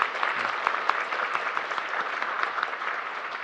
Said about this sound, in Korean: 우리 지휘자님 한번 일어나셔서 우리 박수 한번 하면 좋겠습니다